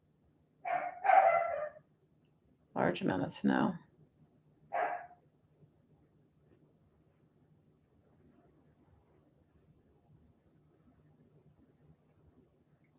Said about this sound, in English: The poor dog's gone crazy because our neighbors all have like people coming over or whatever